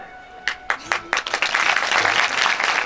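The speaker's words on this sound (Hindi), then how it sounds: "जोरदार ताली बजा के सबका अभिनंदन।" Loud audience applause at a village gathering praising a free community meal service, starting with a few scattered claps and swelling into dense, sustained clapping.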